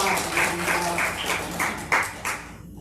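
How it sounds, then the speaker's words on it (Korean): A church congregation claps in encouragement for a Sunday school minister, the sound fairly loud and even before trailing off at the end. "다시 한번 우리 격려 박수 한번 하겠습니다"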